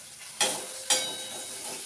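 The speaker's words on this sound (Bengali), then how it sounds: "প্রথমে মশলাটা একটু কষিয়ে নিই তারপর আবার সোয়াবিন দিয়ে কষিয়ে নিই" Spices for a soybean curry fry in a pan, a hissing sizzle lifted by two sharp stirring bursts, close and moderately loud, with no talking.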